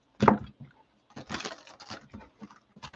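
A deck of tarot cards is shuffled by hand in quick, papery riffles and taps, close and fairly loud, with short pauses between bursts.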